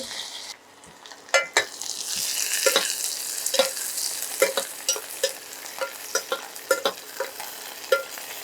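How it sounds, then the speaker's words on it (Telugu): Onions and green chillies sizzle in hot oil for vegetable rice, a loud steady fry punctuated by repeated sharp scrapes and clacks of a spoon stirring against the pan. "సో మనం ఆనియన్స్ అండ్ పచ్చిమిర్చి అన్నీ వేసేసుకోవాలి."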